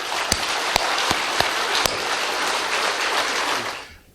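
A lecture audience applauds steadily, a thick wash of clapping with a few sharper claps standing out, holding even for several seconds before fading away at the end.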